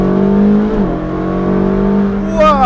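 A Ferrari 458 Speciale fitted with a Novitec exhaust drones loud and close at a steady pitch, dips briefly, holds, then rises sharply in a rev near the end.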